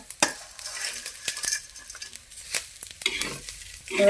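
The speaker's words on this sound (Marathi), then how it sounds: "आता मसाला टाकायचा सगळा, तळून घेते सगळा" Spice masala with onion fries in a pan for an egg paneer-style curry, with a light sizzle under scraping stirs and the occasional clink of a utensil against the pan.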